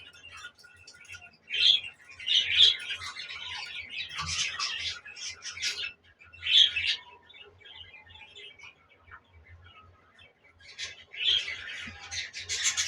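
Pet budgerigar parakeets, a breeding pair kept indoors, give short bright chirps and squawks in scattered bursts with quiet gaps between, close by and fairly faint, with no talking.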